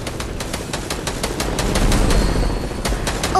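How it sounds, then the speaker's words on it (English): Rapid automatic gunfire in the Fortnite video game, a steady stream of close shots repeating in quick rhythm over a low rumbling game background, with no talking. "Yo, who shooting at me?"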